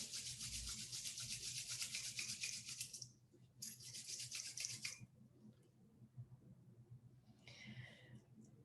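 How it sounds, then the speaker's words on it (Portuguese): Hands rub briskly together close by in a quiet room, a soft dry swishing that comes in bursts with brief pauses between them. "Pode esfregar as mãos."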